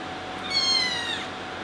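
A single thin, high-pitched meow from a baby kitten being bottle-fed, brief and fairly close, over a quiet background hiss.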